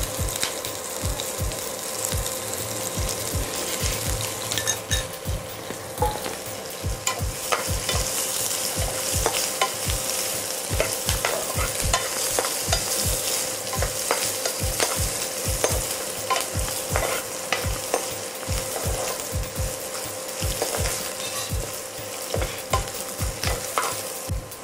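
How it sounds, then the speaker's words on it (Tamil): Chopped ginger sautés in oil for a sweet-and-sour ginger pickle, a constant sizzle punctuated by regular, rhythmic scrapes of a spoon stirring the pan, close and uninterrupted, with no voices. "இது கொஞ்சம் எண்ணெயிலே வதங்கினாதான் நல்லாயிருக்கும்."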